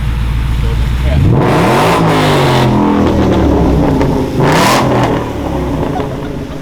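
A Whipple supercharged Mustang GT on E85 revs hard in neutral, loud and close: two big throttle blips that climb in pitch and fall back, over a steady rumbling idle, with people talking around it.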